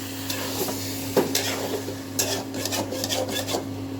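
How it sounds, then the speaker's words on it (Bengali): Coconut prawn curry being stirred in a pan as water cooks out, scraping strokes of a spoon over a steady low sizzle and a constant background hum, close and moderate. "একটু নেড়ে দাও নাড়তে হবে তলায় নাড়া লেগে যাবে"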